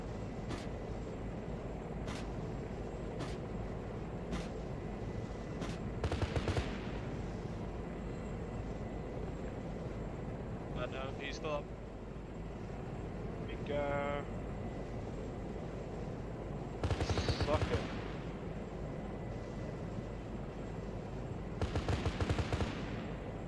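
An Apache helicopter in Arma 3 makes a rocket and gun run over a steady rotor drone, with sharp periodic launch cracks and several rough bursts of cannon fire.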